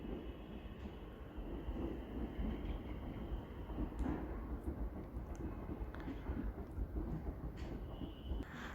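A Class 465 electric train runs past near Grove Park and Elmstead Woods with a low, steady rumble of wheels on rails, fairly distant and soft, with a few faint squeals over it.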